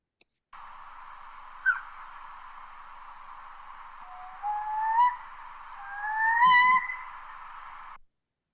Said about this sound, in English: Solid owl.